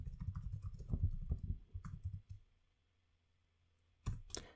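Quiet close-up clatter of keys on a computer keyboard, a quick burst of clicks, a pause and a few final taps.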